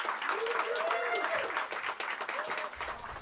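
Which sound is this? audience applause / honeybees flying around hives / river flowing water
audience applause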